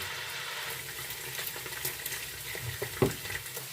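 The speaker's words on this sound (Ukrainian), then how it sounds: "перемішуємо м'ясо. Нам потрібно, щоб воно підсмажилось і стало рум'яне з усіх сторін" Meat sizzles and crackles in an uncovered hot frying pan, a steady frying hiss with occasional scraping stirs and pops as it browns on all sides, close and fairly quiet.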